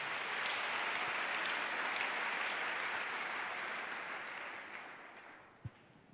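A church congregation applauds in a steady, dense wash of clapping that holds strong before slowly fading away, ending with a single thump.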